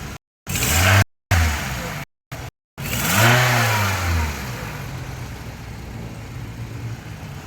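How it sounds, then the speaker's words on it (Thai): A 2007 Toyota Wish 2.0Q Sport with automatic gearbox starting up, the starter cranking through a few short cut bursts before the engine catches with a rev and settles into a steady, close idle. "ฟังเสียงเครื่องกัน แบตเตอรี่ยังใหม่อยู่นะครับ สตาร์ทแล้ว"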